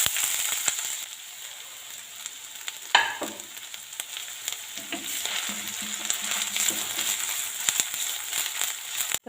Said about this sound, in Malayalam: ഇത് ചൂടായി വരുമ്പോൾ നമുക്ക് ആദ്യം ഇഞ്ചി ഒന്ന് വറുത്ത് പോരാം